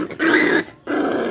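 A puppy gives two short, close, loud growling barks separated by a brief pause, with no talk over them.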